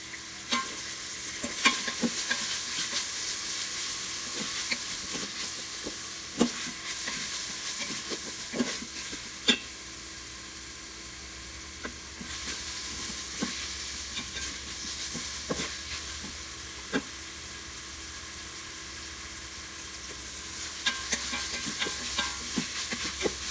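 Homemade ginger garlic paste sizzles in hot oil in a pot while a spoon stirs it, a continuous bright hiss broken by frequent scraping clicks, close and steady with no speech.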